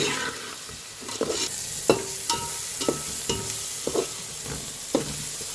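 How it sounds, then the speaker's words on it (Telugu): Onions and green chillies frying in a pan for an egg curry, a steady close sizzle with repeated sharp scrapes and clinks of a spatula stirring at roughly one-second intervals, no talking. "ఒక 3 మినిట్స్ వరకు బాగా ఫ్రై చేసుకుందామండి, ఎందుకంటే ఉల్లిగడ్డ అంతా మంచిగా లైట్ బ్రౌన్ అవ్వాలి"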